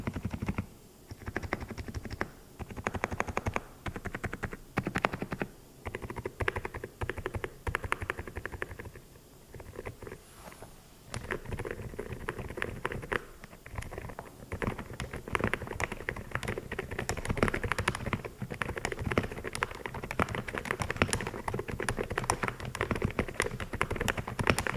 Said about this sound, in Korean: 확실히 거의 저소음에 가까울 정도로 조용하지만 또 조용한 키보드는 재미없다라는 편견을 꽤 많이 깨준 키보드였습니다